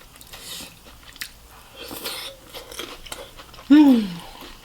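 Crunchy seafood boil shrimp bitten and chewed up close at a mukbang meal, a sharp crunch near the end over quieter mouth sounds and soft murmurs.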